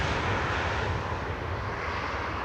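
A widebody airliner lands on the Polderbaan runway 18R at Schiphol, heard as a steady, broad jet roar at moderate distance with no voices.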